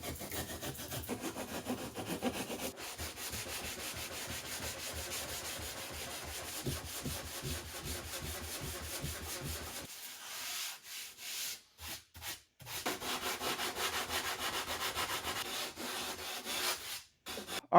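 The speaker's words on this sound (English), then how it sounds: "I'm going to shape it up now and just sand it all nice and smooth, get rid of these tool lines" Hand sanding of a carbon seat plug, steady close scraping and rubbing strokes that keep up through most of the stretch, dropping out briefly near the end before resuming.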